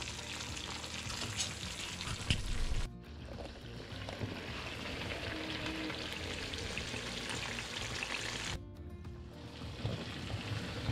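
Prawns for a ghee roast sizzle and fry steadily in a pan, a close, continuous crackling hiss. It is briefly interrupted twice by short cuts, and no one talks.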